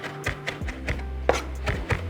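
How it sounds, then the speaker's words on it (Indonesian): A knife chopping green onion (negi) on a cutting board: steady, fairly loud rhythmic chops, roughly four per second, with no talking. "pertama kita akan potong-potong dulu negi atau daun bawangnya ini, belah dan juga diiris-iris ya, jadi kayak dicincang"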